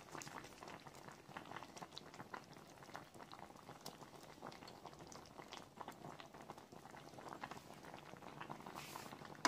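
Soft, steady bubbling from cauliflower simmering under a lid in a covered pan with coriander leaves, a faint continuous boil heard close up with no talking.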